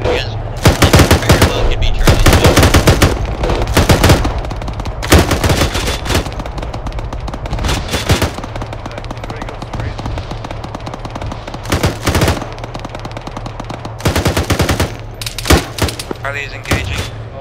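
Automatic and rifle gunfire in an ArmA 3 military co-op battle, with repeated loud bursts of rapid shots and scattered single cracks near and far, separated by short pauses, with voices faintly under the shooting.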